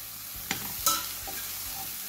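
Chopped red, yellow and green capsicum with coriander leaves stirred into frying masala, a soft steady sizzle broken by a few sharp spatula scrapes against the pan.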